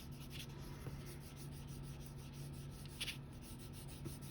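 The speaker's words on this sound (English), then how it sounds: "And then you can go and burnish back that area some more." Soft, continuous rubbing of a burnishing tool over paper laid on an inked carved relief block during hand printing, a faint, steady scratchy swish with slight rhythmic strokes.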